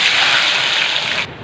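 Mustard and poppy seed paste poured into hot oil in a wok, giving a loud, steady hissing sizzle that cuts off abruptly after about a second.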